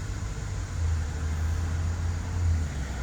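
Steady traffic roars along a busy street, a continuous low rumble of passing cars that swells slightly at moments, heard from a garden nearby with no talking.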